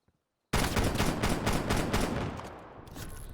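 Rapid automatic gunfire in the Call of Duty Cold War alpha, a loud sustained fast-firing burst bursting in after a brief silence and tapering slightly toward the end.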